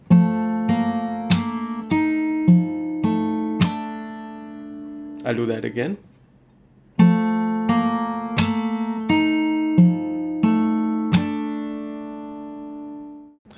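Fingerstyle acoustic guitar part from a song, with plucked notes ringing in a steady pattern and a bass note rising under them. A brief spoken remark interrupts midway before the picking resumes.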